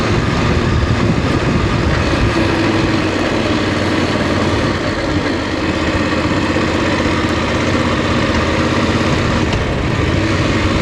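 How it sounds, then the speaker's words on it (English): A Voge 900 DSX motorcycle engine runs steadily under way, a loud, continuous drone with no letup and no voices over it. "it sounds slightly different, the engine."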